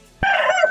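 A single short, hoarse call from a sick Aseel chicken rises after a brief pause, strained and raspy, heard up close.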